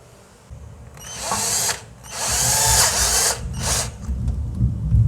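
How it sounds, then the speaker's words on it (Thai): A power drill whines in three bursts, each a high grinding spin as screws are driven into aluminium while installing a water purifier, with short pauses between. "ปลายดอกสว่านอย่างนี้นะครับยิงเลยนะครับ"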